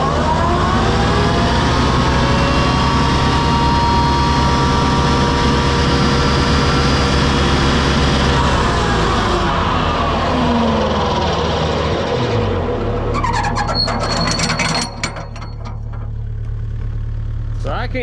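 Flail mower spinning up: a loud, steady engine drone with a whining rotor that shifts in pitch as the flails come up to speed, then rattling, clattering impacts near the end.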